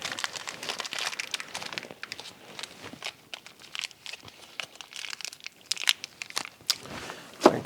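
Hands rummage through a crinkly plastic bag of rivnut parts. The bag gives a close, continuous rustle and crackle with small sharp clicks and crunches throughout.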